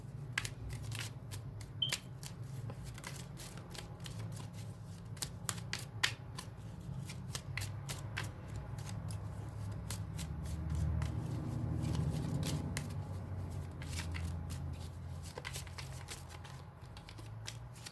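Tarot card deck being shuffled, sharp card riffles and snapping taps recurring through a quiet room for a long stretch, close and soft, with a low hum underneath and no talking.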